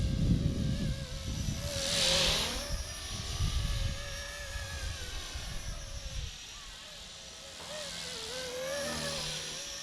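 Blade 230S RC helicopter flying outdoors with a loud, whining tail motor, its pitch rising and falling as it maneuvers, with rotor wash and wind rumble underneath at a moderate distance.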